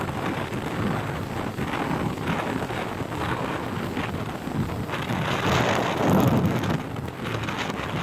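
Heavy rain and gusty wind from Tropical Storm Maysak in Southern China pour down in a steady, dense roar that swells slightly near the end, with wind buffeting the microphone.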